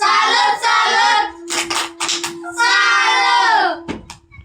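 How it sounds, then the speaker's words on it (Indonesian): Elementary pupils in a classroom at SDI Dolumolo chant together in unison, with short bursts of group clapping breaking in midway as part of a clap-and-chant routine. "Tepuk salut dulu untuk kalian semua."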